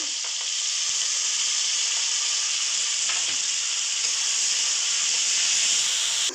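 Green chillies, onion and tomatoes sizzling hard in a pan for mutton kosha, a loud continuous hiss with faint occasional stirring clicks, no voices.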